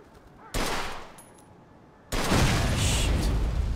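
Gunfire from a Mafia II shootout aimed at an old car wreck's gas tank: one loud burst followed by a sustained, louder second blast of shots that runs to the end, with no talk over it.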